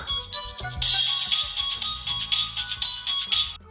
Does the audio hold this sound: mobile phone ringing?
yes